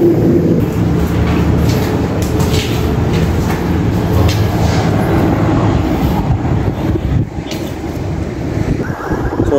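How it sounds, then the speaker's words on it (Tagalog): Elevator machinery in an abandoned hospital in Cavite gives off a loud, steady mechanical rumble and whir, dense and continuous throughout, with no clear talk over it. "Ito yung makina ng elevator."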